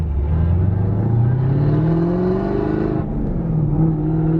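A 1000-horsepower Camaro ZL1 pulls hard in third gear while sliding sideways, its engine roaring close and loud, the pitch climbing steadily, dipping briefly at a shift-like break, then rising again.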